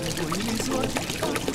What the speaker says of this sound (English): we learn how to pour beer in glasses.